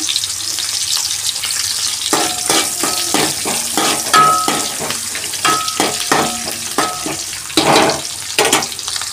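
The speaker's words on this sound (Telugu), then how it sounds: "తాలింపులోని కొంచెం పోపు సామాన్లు, జీలకర్ర, కొంచెం ఆనియన్స్." Onions, cumin and tempering spices sizzle in hot oil for an Indian curry, a continuous frying hiss broken by sharp scraping stirs and clinks of a spoon against the pan.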